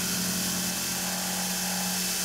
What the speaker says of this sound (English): I used the Seco 40 millimeter face mill to remove the remaining material from this side of the part